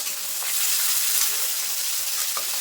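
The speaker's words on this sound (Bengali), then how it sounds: "পেঁয়াজটা একটু ভেজে নেবো" Chopped onions fry in a pan for a Bengali fish curry, giving a loud, continuous sizzle with faint stirring clicks throughout.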